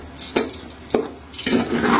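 Pulao rice being stirred and fried in a pan with chopped onion and ginger-garlic paste, with a few sharp spoon scrapes against the pan over a steady low sizzle that grows louder toward the end.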